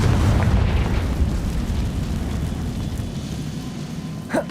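A Confringo fire spell explodes in the Hogwarts Legacy video game, giving a loud, sustained booming rumble that slowly fades, ending with a short, sharp pop.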